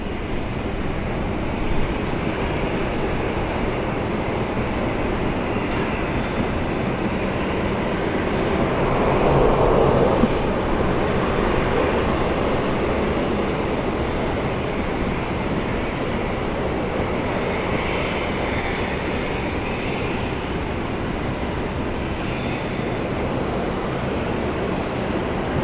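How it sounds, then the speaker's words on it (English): Jet engines of a Fokker 70 airliner at Brisbane International Airport make a steady, continuous roar heard from a distance, swelling slightly midway through and otherwise holding constant, with no voices. "So the Fokker 70 there, that's one we heard start up earlier."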